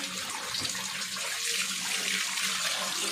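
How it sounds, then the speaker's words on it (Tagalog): Water pouring steadily from a tap into a large cooking pot for beef stew, a close, loud continuous splashing hiss without pause. "Sa part na to lalagyan na natin ng tubig."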